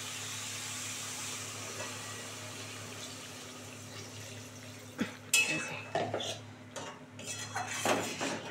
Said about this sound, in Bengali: হাফ মগ জল দিয়ে দিলাম